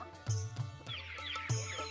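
Swarnadhara chickens clucking in a short repeated series of close, loud clucks, with busy bird chatter and other fowl calls layered in the background.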